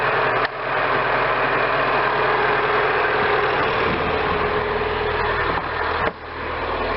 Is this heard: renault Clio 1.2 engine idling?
yes